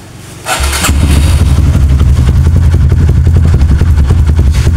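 A motorcycle with a weak battery that is hard to start in the morning cranks briefly, then catches and settles into a loud, close, steady idle with a fast even engine pulse.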